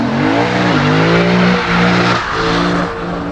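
A 2021 Lexus RC F Track Edition launching hard from a standstill, its engine roaring loud and close as the revs climb and drop through quick gear changes, with a slight tire squeal underneath.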